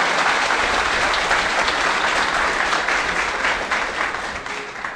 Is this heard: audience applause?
yes